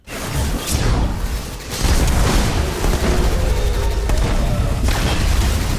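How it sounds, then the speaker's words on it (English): A Nova Bomb going off in the video game Destiny: a loud, full-bodied boom that swells after a brief burst and then rolls on as a dense, sustained roar for several seconds, with no talk over it. "unless you hit them with a Nova Bomb"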